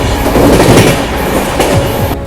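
The Narasapur–Hubli Amaravati Express passes close by, a loud, steady roar of railway wagons with rhythmic clickety-clack from the wheels over rail joints, with no speech.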